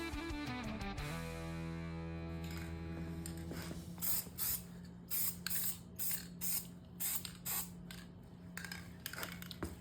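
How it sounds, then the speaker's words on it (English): An aerosol can sprays paint onto a car engine part. The clip opens with a ringing metallic tone, then several short hissing spray bursts come close by, each separated by brief pauses. "And then we're gonna lay some paint on this thing."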